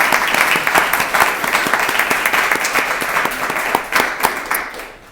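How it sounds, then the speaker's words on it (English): A large audience at the 2023 Bettie Awards arts ceremony applauds steadily and loudly throughout, with a dense, continuous wash of clapping and a few sharper claps standing out near the end. "So if we could just give him a round of applause"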